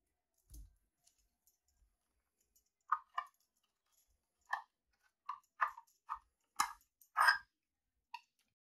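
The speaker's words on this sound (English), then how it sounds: "By pushing a pin down with a screwdriver, twist it a bit and pull it out." Small metal clicks and scrapes from pushing a pin down with a screwdriver and pulling out the fake gas tube on a Mauser K98 rifle, a sparse handful of close, sharp taps separated by silence.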